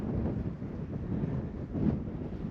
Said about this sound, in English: The wind is supposed to die down here a little bit.